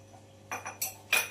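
A metal spoon clinks against a bowl while Kashmiri chili powder is added to gram flour: three or four quick, close, bright taps in a quiet room.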